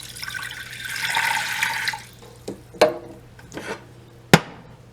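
Water splashes into a saucepan holding drained soaked rice, a steady pouring rush for about two seconds, then a few separate clanks and knocks of the pan, one sharp and loud near the end.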